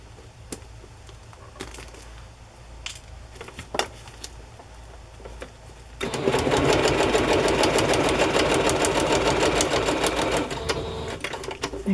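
A sewing machine stitches across the end of a ribbon on a placemat, a fast, loud, regular mechanical chatter that starts abruptly midway after quieter handling clicks and taps.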